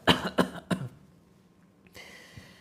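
Three sharp coughs in quick succession close by, followed by quiet, then a faint rustle of background noise.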